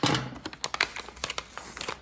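A Pusheen blind bag is ripped open by hand up close, making a quick burst of crinkling plastic followed by a run of short, sharp tearing and rustling sounds.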